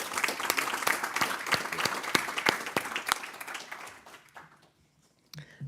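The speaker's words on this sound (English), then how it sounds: "a big round of applause to our panellists" Conference attendees applaud the panellists at a joint Single Resolution Board and European Central Bank event with loud, crisp clapping that fades out after about four seconds, leaving near silence before a brief sound at the end.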